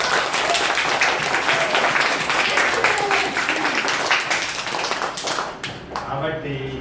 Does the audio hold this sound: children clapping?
yes